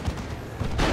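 A grenade explodes in the Warhammer 40,000 real-time strategy game Dawn of War 2, a loud, dense one-second blast of booming noise with a second burst near the end.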